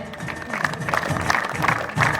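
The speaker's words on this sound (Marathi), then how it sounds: "सर्व विद्यार्थ्यांनी जोरदार टाळ्या वाजवायच्या" Students clap at the opening ceremony of a district-level boys' open kho-kho tournament in Ratnagiri, a scattered, moderately distant patter of applause with crowd murmur mixed in.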